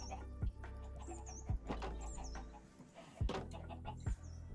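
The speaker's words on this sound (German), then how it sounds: "Blöde Hühner." Minecraft chickens cluck and squawk in short bursts a few times, close and fairly loud over a faint game background.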